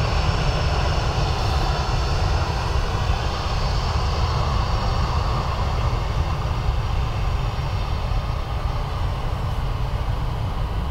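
A Ryanair airliner from Glasgow arrives at Dublin Airport, its engines a loud, steady, broadband roar that holds constant throughout without any voices.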